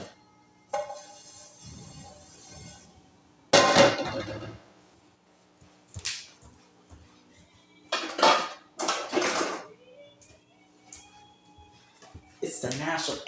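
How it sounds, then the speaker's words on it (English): Dishes, pots and cutlery clatter in sharp bursts while being put away, with a person talking between the clinks. "I'm gonna put the dishes away right now"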